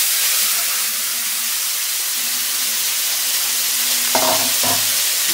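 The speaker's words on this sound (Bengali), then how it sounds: "আমার ডিমটা কড়াইতে দিয়েছি, ভাজা হচ্ছে।" Eggs sizzle in oil in a wok with a loud, steady frying hiss, broken near the end by a couple of brief clanks from a utensil against the pan.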